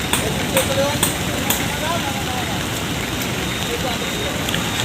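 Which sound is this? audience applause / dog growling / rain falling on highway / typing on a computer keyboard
rain falling on highway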